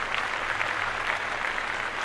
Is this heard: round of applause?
yes